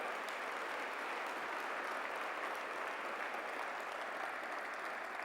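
Steady, distant-sounding applause fills a large hall at the Pravasi Bharatiya Divas valedictory session, a continuous wash of clapping for award recipients with no voices over it.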